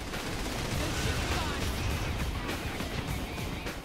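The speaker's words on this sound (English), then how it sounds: "There's things exploding." Explosions and chaotic combat in Saints Row: The Third: a steady, loud roar of blasts and crackling fire rumbles continuously without clear breaks, with no voices heard.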